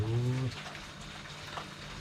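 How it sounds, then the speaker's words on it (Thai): Rain falls outdoors during a fishing outing, a soft, steady hiss of drops that starts under a brief low hum and then continues alone at a modest level. "เพราะว่าฝนตก"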